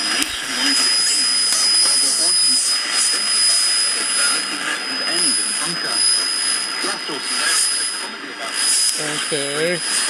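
A vintage RCA AR-77 radio receiver switched on and turned up, giving a loud, steady hiss and rushing static with faint whistling tones and warbling signals. A voice speaks under the noise.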